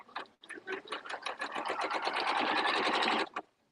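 An Elna sewing machine stitching fabric, a rapid mechanical whirring of needle strokes that starts briefly, pauses, then runs steadily for about three seconds before stopping, close and alone.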